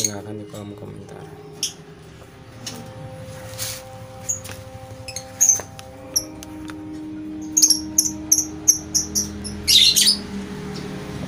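Lovebird chicks and their parent chirp and squawk in a cage during hand-feeding, sparse squeaks at first building to rapid bursts of sharp, close calls near the end, with low rumbling room noise and occasional clatter.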